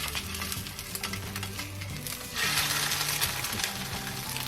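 Egg frying with almost no oil in a stainless steel pan on low heat, a steady close sizzle with light scraping and stirring clicks, growing louder and brighter midway through.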